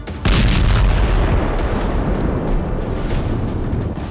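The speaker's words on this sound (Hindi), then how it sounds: "आईडीएफ ने स्ट्राइक कर बिल्डिंग को जमींदोज कर दिया।" A loud airstrike blast levels a building in Gaza, bursting in after a brief quiet and rolling on as a sustained, heavy rumble of collapse and debris that slowly eases over several seconds, with no voices.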